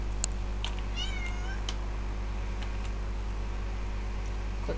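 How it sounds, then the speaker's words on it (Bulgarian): A cat gives one short, faint meow over a steady low electrical hum, with a few soft clicks around it. "Котката ми прави известни проблеми."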